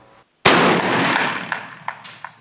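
A single sharp rifle gunshot, fired with SP-Z-K KRUK powder test loads in brass cases, cracks loudly nearby, followed by a brief ringing decay and a few faint clicks.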